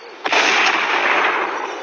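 A loud gunshot in the horror video game Mr. Meat hits sharply and trails off into a sustained rumbling roar that slowly fades.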